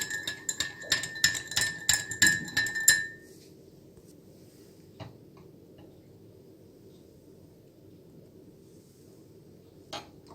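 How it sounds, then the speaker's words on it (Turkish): A spoon stirs spiced tea in a glass, ringing out a quick series of bright, even clinks for about three seconds, then fading to quiet room tone with one faint tap near the end. "Şimdi karıştırıp bir de tadına bakalım."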